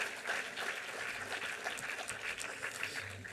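Audience applause at a large gathering for a revered swami, a steady broad clatter of clapping filling the hall throughout, with no voices on top.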